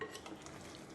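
Onions and dry chili stirred in sesame oil in a claypot, a brief, quiet burst of soft sizzling and scraping lasting about a second.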